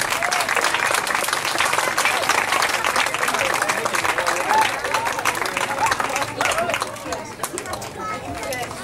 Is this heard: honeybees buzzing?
no